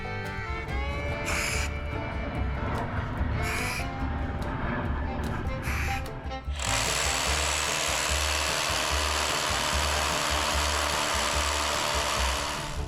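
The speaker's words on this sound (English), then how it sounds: "We're drilling 5/8 inch holes into this concrete that's 3 inches deep" A hammer drill bores 5/8 inch holes three inches deep into a concrete pool shell, first in short broken bursts, then in one steady loud grinding run that continues to the end.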